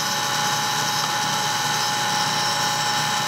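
A saw and lathe cut a quartz tube, giving a steady, dense, high-pitched grinding whine that runs without a break and sounds close.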